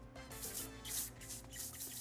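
Heat protectant priming spray misted onto a wig in short hissy bursts, several spritzes over a couple of seconds with a faint tonal hum underneath and no talking.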